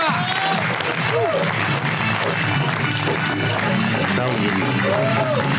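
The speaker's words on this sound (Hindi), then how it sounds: "आपकी ढेर सारी तालियों में।" Steady applause and crowd noise from a live audience greeting a comic poet at a Pakistani humorous poetry show, dense and continuous throughout with a voice faintly audible over it.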